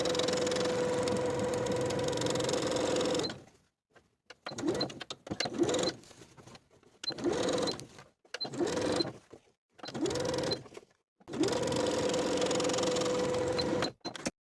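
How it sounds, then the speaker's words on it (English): A domestic sewing machine edge stitches bias tape along the inner edge of an apron, running in steady bursts with short pauses between stitching runs, close and alone. "Edge stitch the inner edge of the bias tape all the way around this back inner edge of the garment."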